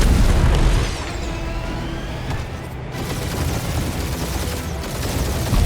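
Gunfire rattles through a Guardians of the Galaxy video game battle as a dense, loud, continuous wash of blasts and rumbling explosions with no clear breaks.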